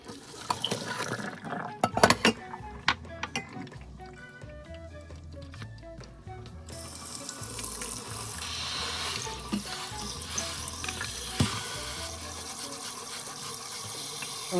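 Boiling water from grapefruit being cooked is poured out into a kitchen sink, with a few sharp clinks of dishes early on, followed by a steady rushing splash of water draining.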